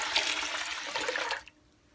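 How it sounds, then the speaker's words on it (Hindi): Water gushes steadily for over a second from a jug into a pot, a bright splashing pour that cuts off abruptly and leaves near silence. "एक जग पानी और डालेंगे"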